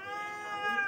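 A cat lets out one drawn-out, close meow, loud and tonal, that swells slightly toward its end.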